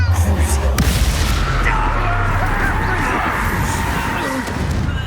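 A Confringo spell blast in the game Hogwarts Legacy, with a loud, dense explosive rumble and crackling debris that fill the whole stretch, an opening thump, and a voice speaking over the din.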